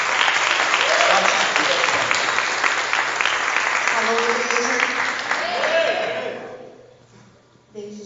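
A church congregation claps together in a sustained wave of applause that slowly fades out, with a voice calling out over it near the end.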